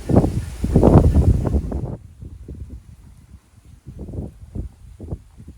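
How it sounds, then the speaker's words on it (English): Gusty wind buffets the microphone with strong rumbling bursts at first, then eases into lighter, intermittent gusts outdoors. "whoo, it's windy"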